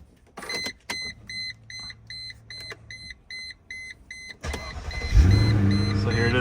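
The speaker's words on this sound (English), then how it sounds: "Okay, so I'm gonna start the car." Mercedes W210 car engine starting: steady chiming dashboard beeps give way to a starter crank and the engine catching into a loud, steady idle.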